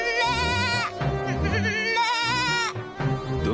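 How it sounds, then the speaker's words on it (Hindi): Goat bleating in repeated wavering cries, close and fairly loud, with short pauses between calls and no talk over them. "तुम चाहे जितनी भी मिमिया लो,"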